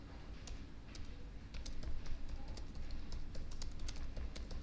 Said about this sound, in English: So I'm going to type create publishing journal.